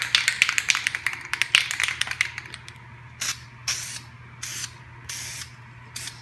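Aerosol spray can laying top coat on Honda Prelude Si car molding: a sputtering, ticking burst of spray at first, then several short separate hissing passes, close up with no talking.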